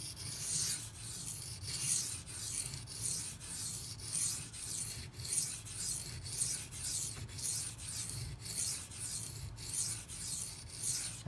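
A Benchmade Mini Crooked River knife blade scrapes steadily across a very hard sharpening stone, a soft, rhythmic rasp of repeated strokes roughly twice a second, close and quiet with no talking.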